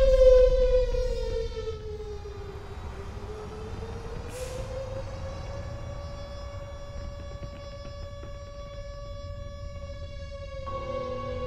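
An earthquake warning siren wails in a long, steady rising-and-falling tone, heard from a distance and alone, with a faint rumble underneath.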